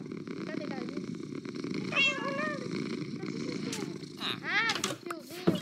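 Minecraft cat meowing in a survival game, with several short rising meows near the end over a steady game background, while a person talks throughout.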